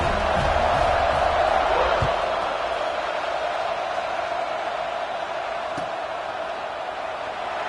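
Stadium crowd noise from a football video game, a steady broad roar of cheering held throughout at moderate level, easing slightly toward the end.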